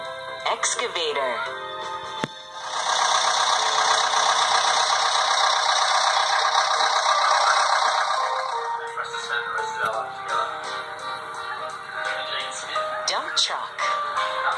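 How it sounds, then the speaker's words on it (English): A heavy excavator engine rattles and roars, swelling loud for several seconds before easing back to a rougher, clanking idle. "Excavator."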